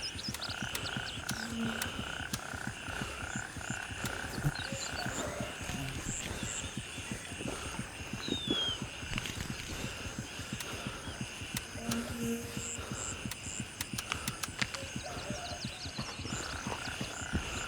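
Dense, steady chorus of frogs croaking in a night swamp soundscape from the military shooter Gray Zone Warfare, overlapping calls pulsing continuously throughout with no talk.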